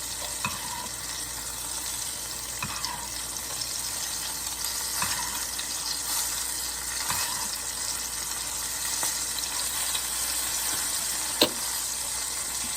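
Filet mignon fries in a pan with bacon grease, a loud, continuous close sizzle broken by a few light spoon clinks and scrapes, with no talking.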